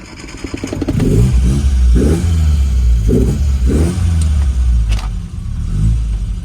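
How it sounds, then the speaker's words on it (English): A carburetted Lotus Elan engine revs hard at wide open throttle, loud and close, with a series of sharp rising bursts over a rumbling idle. "good idling from closed throttle to 1/8, and then good wide open throttle"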